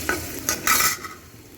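Onions sizzle in a hot pan, stirred in a few short scraping bursts, the last and loudest lasting a moment before fading to a soft background fry.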